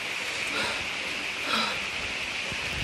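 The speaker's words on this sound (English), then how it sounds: "Couldn't get any worse and it started raining" Steady, soft rain hiss at a wildlife sanctuary in South Goa fills the scene with no talking, an even wash of falling drops throughout.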